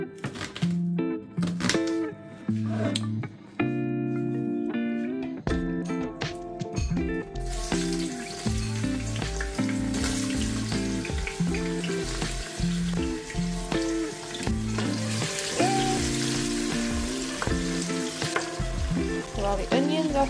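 Onions fry and soften in a pan for a vegan cauliflower and potato curry, a steady close sizzle running under clattering kitchen sounds and cooking activity throughout, with no one talking.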